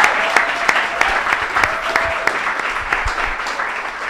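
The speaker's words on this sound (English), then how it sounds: "Can we have a round of applause for your candidates 2013?" An audience at a university student-election debate gives the candidates a round of applause, loud dense clapping with distinct sharp claps standing out near the front of the room.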